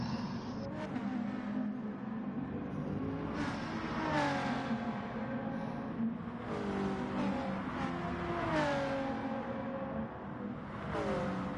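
An Audi race car engine in a racing video game revs up through the gears again and again, rising whines repeating every few seconds over a steady drone of other cars on track.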